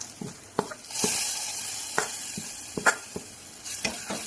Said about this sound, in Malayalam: ഇഞ്ചി വെളുത്തുള്ളി ചതച്ചത് നമ്മൾ കുറച്ച് വെളിച്ചെണ്ണയിൽ ഒന്ന് വഴറ്റിയിട്ട് നമ്മളിതിന് മുകളിൽ ഇട്ട് കൊടുക്കണം